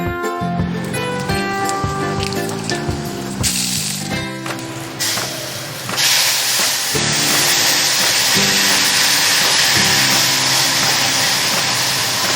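Water poured into a cooking pot and brought to a simmer for a home-style dal or curry: a steady hiss and bubbling takes over after a few clattering, clinking kitchen moments, close and fairly loud, with no talk.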